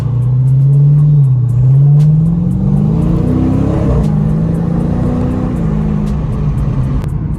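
A Dodge Scat Pack muscle car with a new exhaust revs hard and holds a deep, loud rumble, the pitch climbing and settling again with no talking over it.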